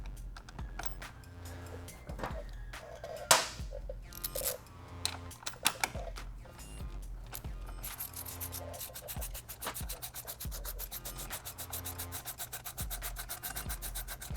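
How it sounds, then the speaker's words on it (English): A 17mm socket on a ratchet turns a frame slider bolt into the frame of a 2017+ Yamaha FZ-09, giving repeated close clicks and rubbing metallic scrapes over a steady low hum, without speech. "we are going to use 17mm socket to engage the threads"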